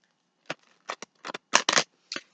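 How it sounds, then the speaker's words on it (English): A handful of quick, crisp riffling bursts of tarot cards being shuffled, close by, with short pauses between them and no talking. "give it a couple shuffles"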